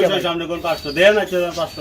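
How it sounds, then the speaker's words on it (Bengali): Tiger-coloured grizzle pigeons coo close by in soft, rising-and-falling phrases, with someone talking over them. "এটা হচ্ছে টাইগার কালারের গ্রিবাস কবুতর দেখতে কিন্তু খুবই চমৎকার লাগে"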